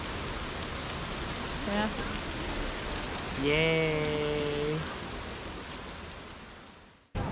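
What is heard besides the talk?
rain falling in Prague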